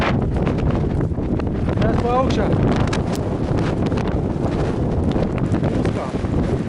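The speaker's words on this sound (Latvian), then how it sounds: "Bet būs vējains un būs skaņa." Strong wind roars and buffets the microphone near the summit of Carrauntoohill, Ireland's highest peak, a loud, steady rush throughout, with a person speaking briefly over it.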